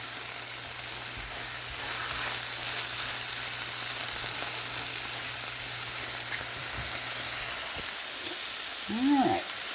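Thyme and other savory bread pudding ingredients sizzle steadily in a hot pan, a constant bright frying hiss that lasts throughout, with a brief low hum underneath and a short voice-like sound near the end.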